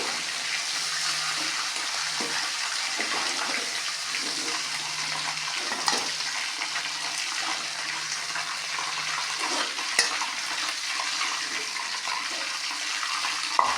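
Dried fish thokku fries in a pan with a steady, soft sizzling hiss and a few faint pops and clicks, continuous and unaccompanied by talk.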